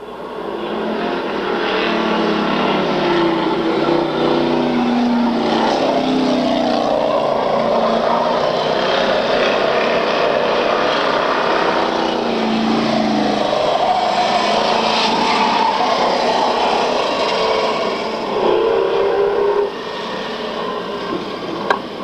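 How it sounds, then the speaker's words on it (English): Race cars roar around a racetrack in a continuous loud engine drone that rises and falls as the cars pass, with a track announcer's voice over it. "Another race between the 2 of Charlie Lewis, the 75 of the Gene Wiggle, who's just fallen off the pace"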